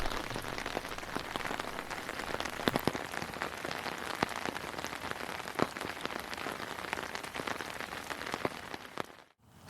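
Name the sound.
water from the roof running out of the tank overflow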